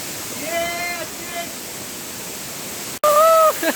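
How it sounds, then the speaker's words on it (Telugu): Mahal waterfall in Gujarat roars as a steady broadband rush of flowing water, loud and continuous, with voices speaking over it at moments. "½ కిలోమీటర్ మొత్తం వాటర్ ఫ్లోయింగ్"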